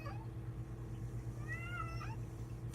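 A cat meows a few times, its drawn-out wavering cries sitting over a steady low hum in an indoor room, fairly close and alone without talk.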